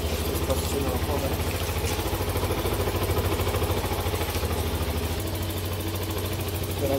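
A Benelli BN125 motorcycle engine idles at a steady, even pulse after a cold start.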